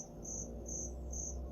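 Evenly spaced chirps from a cricket tucked away inside a store, three clear pulses riding over a faint steady hum.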